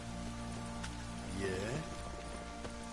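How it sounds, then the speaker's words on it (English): Steady, heavy rain pours down in a constant hiss, and a voice speaks briefly over the downpour partway through. "This downpour's a bastard"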